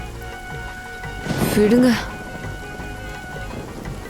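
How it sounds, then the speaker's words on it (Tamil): Steady rain falls in a continuous hiss throughout, while a person briefly speaks over it in the middle. "இப்படி மழை வரும்னு நான் நினைக்கலங்க"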